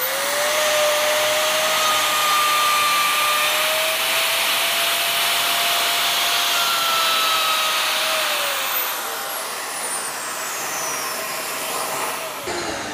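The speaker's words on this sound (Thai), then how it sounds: "ใช้เครื่องดูดฝุ่นด้วยครับ" A vacuum cleaner drones steadily and loudly throughout while a trimmer router cuts a groove in wood, its whine shifting in pitch before the sound thins out near the end.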